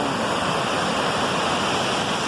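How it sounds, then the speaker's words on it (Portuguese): A waterfall pours in a steady, dense roar of falling water, loud and unbroken throughout with no voices. "Isso aqui é uma cachoeira."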